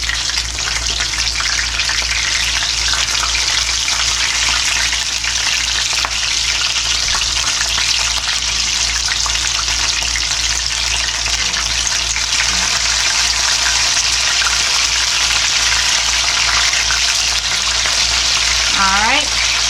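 Pork chops sizzle steadily in a hot pan after being flipped, a loud, continuous frying hiss with occasional pops and no pause throughout.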